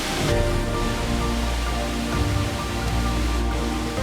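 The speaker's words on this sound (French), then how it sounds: "on est arrivé à la cascade, c'est très beau" A waterfall in Scotland roars as a dense, steady rush of broadband noise, close and loud, with no voices.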